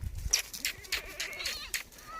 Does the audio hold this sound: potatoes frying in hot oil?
no